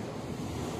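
Waves surge at Playa Casino beach where the Marga Marga river meets the sea in Viña del Mar, Chile, a loud steady roar of surf mixed with wind buffeting the microphone.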